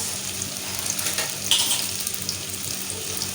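Ghee sizzles steadily in a pan while potatoes and egg roast, a continuous close hiss with a faint brief clink partway through.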